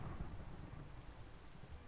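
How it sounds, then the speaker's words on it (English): A thunderstorm sounds in a video game set in a mangrove forest, with a steady wash of rain and a low, rumbling thunder underneath, faint and continuous. "Hopefully the storm ends."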